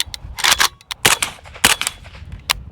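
A 300 Blackout rifle fires 150 grain hand-loaded rounds at steel targets outdoors: four or five sharp, loud reports spaced about half a second apart, each with a short ringing tail.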